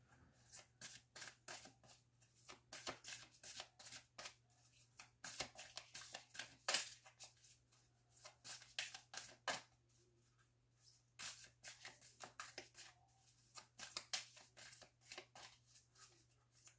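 A Moonology oracle card deck is shuffled by hand in repeated bursts of crisp riffling and flicking, each lasting about a second, separated by brief pauses, quiet and close, with a faint steady hum underneath.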